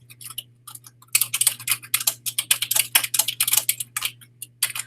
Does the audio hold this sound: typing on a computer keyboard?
yes